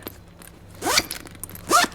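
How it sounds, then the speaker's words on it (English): The top zipper of a camera travel bag is pulled twice in quick succession, each a short, close, raspy zip. "the zipper on the top here actually has two zippers, so you can actually just pull it depending on how you're wearing your bag"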